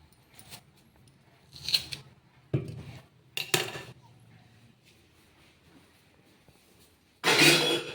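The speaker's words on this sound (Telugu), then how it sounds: "అయితే ముందైతే ఉర్లగడ్డలు కట్ చేసుకుంటున్నాను." Potatoes being cut in a home kitchen, with a few sharp knife-on-board chops and clatter spaced through the clip, a louder burst of clattering near the end, and faint talk in the background.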